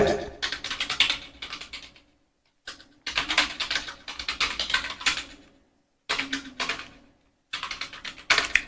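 Fingers type on a computer keyboard in rapid bursts of close, crisp key clicks, separated by short silent pauses.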